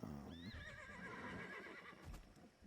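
Horses in a video game whinny, with one clear rising-and-falling neigh near the start followed by softer snorts and hoof sounds, faint and alone without talk.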